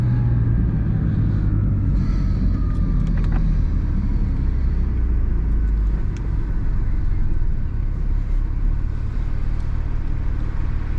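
A Porsche 911 992 GT3 gives off a steady, close low rumble from its engine and road noise throughout. A few faint, brief ticks sit above the rumble.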